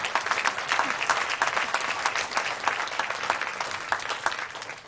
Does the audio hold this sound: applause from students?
yes